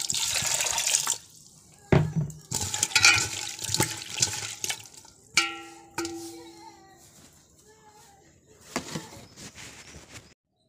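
Running tap water splashes into a pot while lentils are rinsed by hand, a loud gushing stream broken by pauses, clinks and swirling water.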